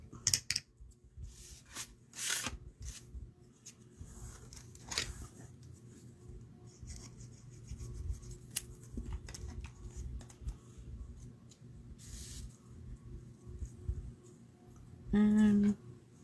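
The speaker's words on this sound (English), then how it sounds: "And then we're just gonna snip that" Scissors make small, crisp snips through thin paper for a layered snowy card scene, the irregular close cuts set apart by soft rustling and handling noise.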